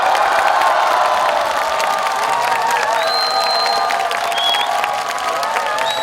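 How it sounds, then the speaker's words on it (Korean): A concert crowd at an event in Gwangju roars with sustained cheering, whoops and applause, loud and continuous from start to finish, with no clear speech over it. "제 모습이 보이는 순간 우르야 같은 함성을 보내주시고요"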